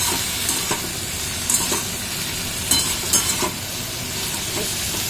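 Potatoes with turmeric and salt sizzle steadily in a frying pan as they are stirred, giving a broad continuous hiss with a few brief scraping clicks, close and fairly loud with no talking.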